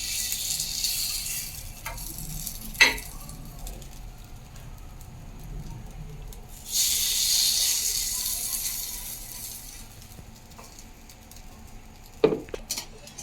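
Moong dal appam batter fries in a pan, a steady low sizzle broken by sharp clinks of a spoon against the metal and a brief louder hiss midway.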